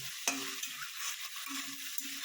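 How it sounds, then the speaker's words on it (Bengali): Shrimp marinated in salt and turmeric fry in a pan for a vegetable chachchari with kalmi stems, a steady low sizzle broken by a few sharp spatula scrapes and stirring clicks, close and moderately quiet, with no talking. "চিংড়ি মাছটা একটু ভাজা ভাজা করে নিই।"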